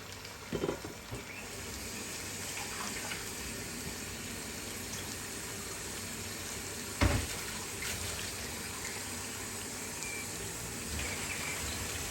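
Water poured into a pot of simmering beef and potato curry, a steady broad wash of liquid that runs throughout at moderate level, with a brief sharper splash or clatter partway through.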